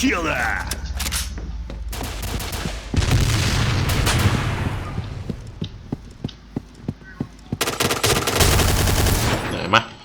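Gunfire in Point Blank while shooting zombies through a scope, with heavy bursts of automatic fire, a run of evenly spaced single shots in the middle, then another loud sustained burst near the end.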